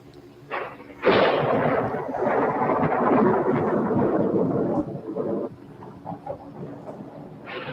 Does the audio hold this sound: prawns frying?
no